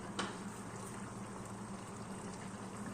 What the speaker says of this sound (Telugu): ఇలా వాటర్ వేసుకున్న తర్వాత బాగా కాసేపు ఉడికించుకొని